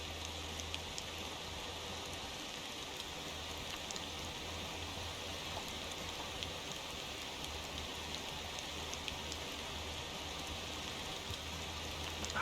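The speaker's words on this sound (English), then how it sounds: "Ah, the rain. The lovely rain." Steady rain falls in the driving game Motor Town: Behind The Wheel, an even, continuous hiss with a low rumble beneath it that holds the same level throughout, with no voices.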